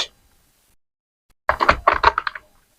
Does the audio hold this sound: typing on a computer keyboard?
yes